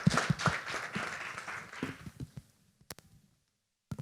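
Applause from a conference audience starts loud and dense, then thins into a few scattered claps and fades to near silence, with one last clap at the end.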